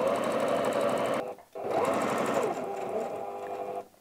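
A domestic sewing machine stitches fabric for a tablet cover, a close rapid mechanical whirr that runs, stops briefly while the needle is lowered and the work turned, then resumes before cutting out.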